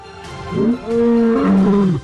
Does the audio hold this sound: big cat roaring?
yes